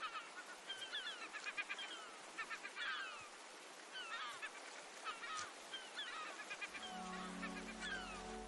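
Wild birds gather over fish leftovers from a bear feast, giving repeated honking calls in bursts against a steady wash of surf.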